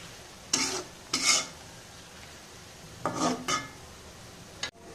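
Onions stirred in hot oil for frying crispy fried onions for a Pakistani chicken malai curry, with two short scraping stir bursts, a pause, then two more, over a faint steady sizzle.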